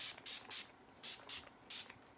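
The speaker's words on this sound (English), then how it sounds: "first I'm gonna spray my face just so it can, like, you know, melt all those products and the powders and whatnot." Setting spray misted onto a face in quick pump bursts, six short hissing sprays in pairs with brief pauses between, close and crisp.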